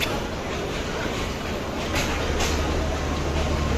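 A crowded passenger train pulling into the platform at Sreepur railway station in Bangladesh, a broad rolling rumble that deepens and swells toward the end, with a crowd murmuring nearby.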